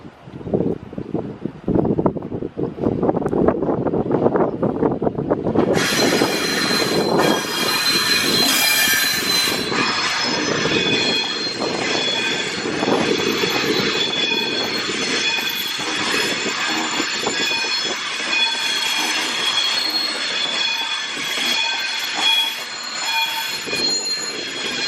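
A train working the London Euston to Liverpool Lime Street service passes through Crewe, a loud close rumble joined by sustained high-pitched wheel squeal and rhythmic rail clatter lasting throughout, with no talking.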